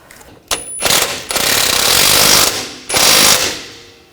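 A wrench works on a rear suspension integral link bolt of a 2000–2006 BMW X5, producing loud, close, harsh mechanical rattling in two long sustained bursts with short pauses between.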